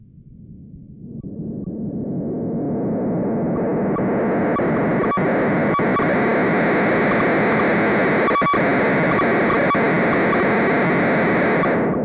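A harsh, dense wash of noisy analog synthesizer tone from a Moog Werkstatt swells in and holds steady, crackling with glitchy clicks and stuttering bursts, loud and continuous.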